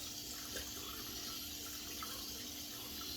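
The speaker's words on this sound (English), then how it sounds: "Now I'm rinsing off my lathering bowl." Water runs steadily from a tap while a shaving lathering bowl is rinsed beneath it, a constant close splashing hiss with a few faint knocks against the bowl.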